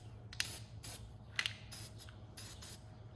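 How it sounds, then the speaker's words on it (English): Terminal protector sprays onto car battery terminals in several short hissing bursts, close and fairly quiet, each lasting a fraction of a second with pauses between. "I'm going to spray some of this terminal protector on here"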